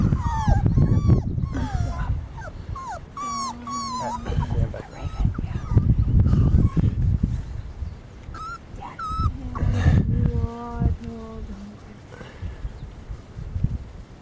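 Several beagle puppies whimper and yip in high, wavering cries, close by, coming in bursts with brief pauses, and a person talks briefly among them.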